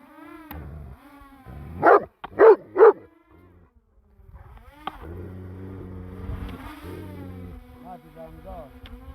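A dog around a flock of sheep gives three sharp, loud barks in quick succession, followed by people talking nearby over low background sounds.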